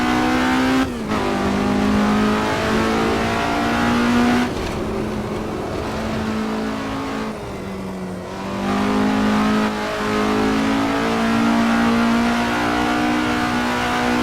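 A race car engine in the racing game Assetto Corsa, driven in cold heavy fog, revs loud and steady up close with a few gear shifts and brief dips in pitch.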